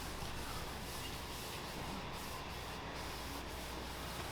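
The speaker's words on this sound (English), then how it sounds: "if I agitate it with the sandpaper and blend it, then the patina will take easier" Sandpaper agitating a steel surface to blend a patina, a steady close hiss of abrasive rubbing that continues evenly without pauses, moderately quiet.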